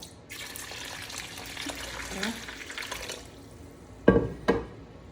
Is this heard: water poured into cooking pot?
yes